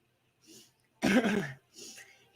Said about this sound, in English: I'm trying to clear my throat